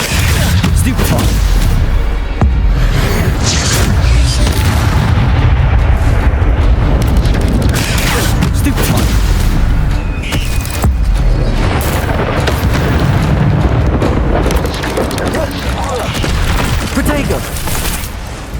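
Stupefy spell blasts during a Hogwarts Legacy fight against spiders land as repeated booming, crackling impacts over a constant roar of combat, loud throughout, with character voices calling out between the hits.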